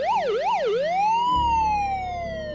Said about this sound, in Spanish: escuchar una sirena de ambulancia o de policía